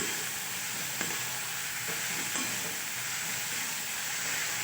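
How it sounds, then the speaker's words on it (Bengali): Fish frying in a pan with salt, a steady close sizzle and occasional stirring scrapes running throughout with no talk. "খুব ভালোভাবে আমি যতক্ষণ পর্যন্ত জল বেরোবে ততক্ষণ পর্যন্ত কিন্তু ভালোভাবে আমি ভেজে নেব"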